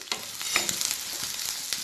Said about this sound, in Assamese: এতিয়া এইখিনি ভাজি লওঁ